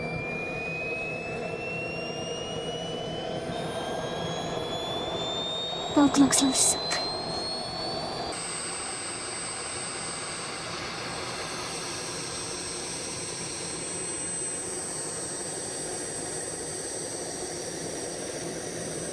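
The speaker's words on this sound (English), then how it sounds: "time for the first ever run of the jet car under its own power" A small jet turbine on a 12-kilogram RC jet car whines at a steady high pitch with a loud roaring rush as it spools up, rising briefly mid-way; a voice speaks once over the engine.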